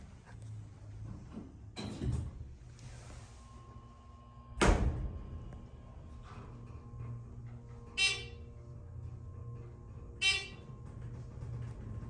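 Doors of a brand-new Thyssen Dover elevator slide shut with a loud thud near the middle, against a steady low machine hum, with fainter clunks and two short chimes or dings later.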